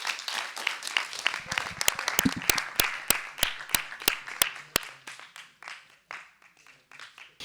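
Audience applause at a book-summary contest final, a dense patter of clapping that thins out over several seconds into a few sharp, separate claps from nearby hands.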